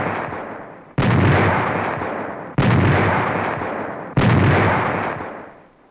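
A 75mm pack howitzer fires three heavy booming rounds at even intervals, each blast sharp and loud before decaying into a long rolling echo.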